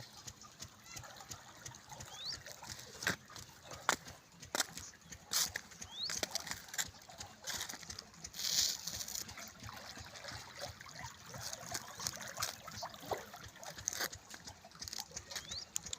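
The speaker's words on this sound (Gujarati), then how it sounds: "પાણી છે, છોટી નહેર છે, પાણી જાય રહ્યું છે" Water trickles and gurgles along a small farm canal fed from a well, a faint continuous flow with scattered soft splashes and clicks.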